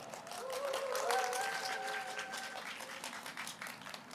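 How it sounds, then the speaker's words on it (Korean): An audience at a literary festival public broadcast applauds to welcome the musician Bobae, a fairly soft, steady patter of clapping from a crowd, with a brief tonal sound over it near the start. "박수로 마주해 주시기 바랍니다"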